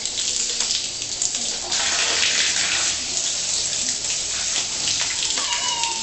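Water gushes from a faucet into a household washtub, a loud steady splashing rush filling the whole stretch, with a cat's meow and faint voices in the background.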